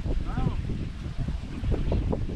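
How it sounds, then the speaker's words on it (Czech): Strong wind buffets the microphone outdoors by a reservoir during a carp-fishing trip, a steady loud roar with gusty swells throughout the short stretch and no clear talk. "Fouká jako blázen."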